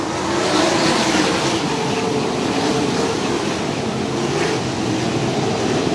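Race cars roar around a short dirt oval as green-flag racing resumes after a caution, a steady loud blend of many engines throughout, with no quieter gaps.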